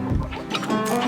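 Rooster named Big Red clucking inside a busy chicken coop among many hens at morning feeding, a close, continuous stretch of short fowl calls layered over general coop noise.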